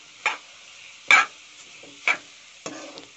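Grated carrots for carrot halwa are stirred in a pan, making four separate scraping strokes of a spoon with near silence between them.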